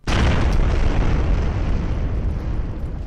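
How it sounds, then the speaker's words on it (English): Explosion in the video game Friendsim 2, one sudden loud boom that swells into a sustained rumbling roar and slowly tails off, with no talk over it. "the shockwave from the explosions knocks you and Marsty flat on your backs"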